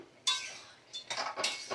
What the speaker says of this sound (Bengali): তো ভালো করে একটু নাড়াচাড়া করে নিচ্ছি।